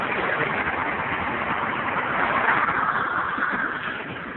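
A car engine idles steadily nearby, a low even rumble that holds for a few seconds without revving or fading, with no talk over it.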